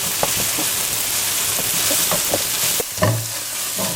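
Tomatoes fry and sizzle in a pan on high heat while a utensil stirs them, giving a steady close sizzle with repeated scraping strokes and a louder clatter near the end, no talking.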